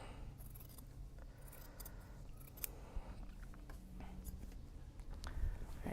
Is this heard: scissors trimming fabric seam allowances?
yes